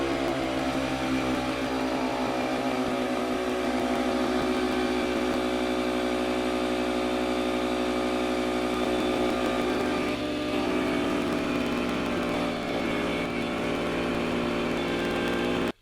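EcoMax air compressor motor running continuously as it fills its tank toward 150 PSI, a loud, close, steady buzzing hum that holds evenly throughout before cutting off at the very end.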